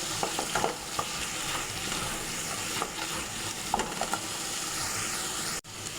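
A spice paste with ginger and garlic fries in a pan for chicken bhuna khichuri, giving a steady close sizzle broken by light scraping stirs, with one brief drop near the end.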